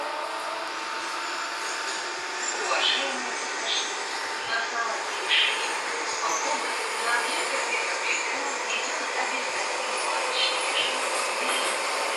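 An 81-717 metro train rides the Avtozavodskaya line from Kamennaya Gorka station, giving a continuous loud rumble and hiss of wheels and motors throughout, with faint voices underneath.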